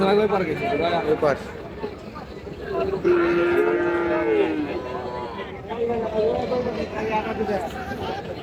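Young cattle calves, local and Sahiwal heifers, mooing at a rural farm market near Dhaka and Gazipur, a long drawn-out low moo near the middle with other faint calls, under busy surrounding talk among buyers.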